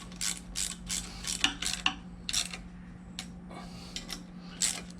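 A ratchet tightening bolts on the lower unit of a 1992 Johnson 25 hp outboard, a series of close, quick clicking bursts with short pauses between them, over a faint steady hum.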